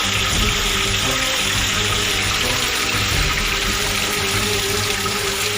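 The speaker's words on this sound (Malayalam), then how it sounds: "അവിടുന്ന് ഉറവ വെള്ളം ഒഴുകി വരുന്നു" Spring water pours out from beneath a large rock, a loud, constant rushing flow that fills the whole stretch without pause.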